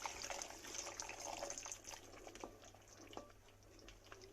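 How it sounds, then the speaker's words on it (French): Water is poured into a cooking pot for a Tunisian shark pasta dish, a steady, soft splashing pour heard faintly and alone for a few seconds. "Je rajoute un petit peu d'eau, pas beaucoup, 300 ml d'eau environ."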